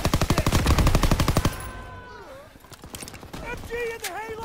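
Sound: machine gun fire in Call of Duty WW2 video game

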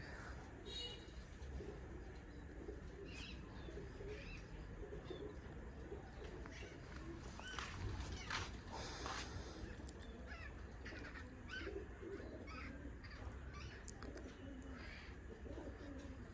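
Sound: cooing of pigeons at loft

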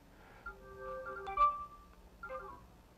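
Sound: NFC speaker starting up after phone tap

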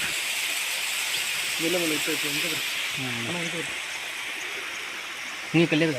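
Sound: water flowing down among hills

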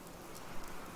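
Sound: rain in the video game Fallout 76

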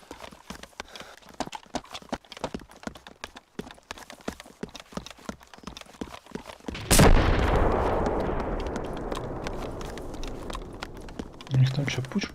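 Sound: artillery cannon fire in video game ArmA 2

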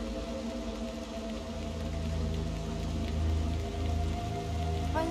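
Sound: rain falling in the video game Little Nightmares 2

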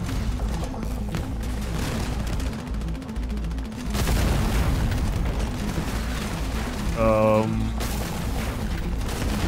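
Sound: gunfire shooting at a gate in a video game brawl

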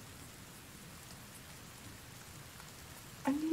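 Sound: rain in video game The Forest

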